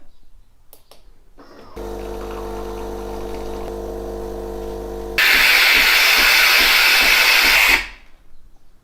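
A Gaggia Cadorna espresso machine brewing a flat white: a steady loud pump hum starts, then gives way to a harsh, loud hiss for several seconds before cutting off abruptly.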